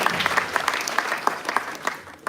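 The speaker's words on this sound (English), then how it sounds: "they deserve a big round of applause for them" A brief burst of audience applause at a closing ceremony, a fairly close crowd clapping in quick uneven bursts for a couple of seconds.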